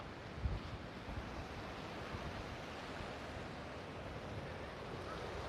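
Waves and wind along the Corpus Christi Bay shore at Indian Point Park in Portland, Texas, a steady broadband wash of surf with wind buffeting the microphone, fairly quiet and continuous, with no voices.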